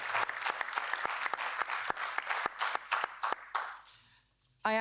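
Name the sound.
audience applause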